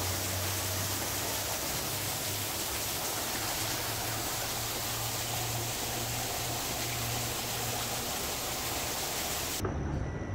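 Heavy rain pours at Chin Swee Cave Temple in Malaysia, a dense, loud, unbroken roar of water that cuts off abruptly at the very end.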